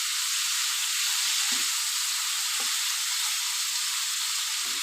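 Shrimp frying with salt in a pan give off a loud, constant, close hissing sizzle, with a few soft stirring knocks underneath and no talking.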